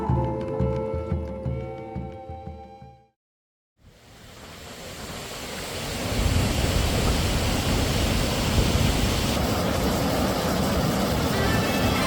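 After a burst of music and a brief silence, the roar of the Fontcouverte waterfall in snowy Briançonnais builds into a loud, steady, unbroken rush of falling water.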